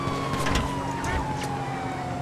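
Police siren in a video game, a wailing tone sweeping slowly downward over steady engine and traffic noise, continuous and fairly loud throughout.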